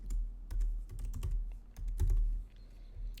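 Keys clacking on a computer keyboard in short bursts and scattered single taps, close and fairly quiet, with no talking over it.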